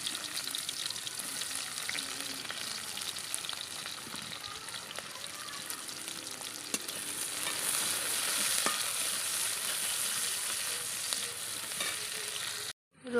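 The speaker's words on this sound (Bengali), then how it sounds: "তেলটা একটু গরম হওয়ার পর পেঁয়াজ দিয়ে দিলাম।" Onions fry in hot oil in a kadai (wok), a dense, continuous crackling sizzle that holds steady and close for several seconds with faint stirring scrapes, then cuts off abruptly at the end.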